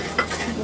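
Onion, chives and garlic frying in oil in a pan, giving a soft, steady sizzle with a brief stirring scrape, close and quiet.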